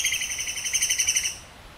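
A small bird chirps in a quick, even series of bright tweets. The call is clear and fairly close, with no voices under it, and it stops a little before the end.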